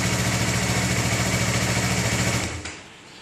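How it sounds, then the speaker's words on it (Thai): Yamaha MT03 motorcycle engine idling steadily up close, then cut off abruptly by an alarm remote, dropping into near silence with a faint click. "กดปุ๊บ เครื่องยนต์จะดับทันที"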